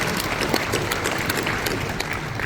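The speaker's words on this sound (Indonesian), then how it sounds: "Tepuk tangan buat Papua." Audience applause for the Papua delegation inside a convention hall at a national forum in Nusa Dua, Bali, a continuous wash of many hands clapping with crowd murmur, loud and sustained throughout.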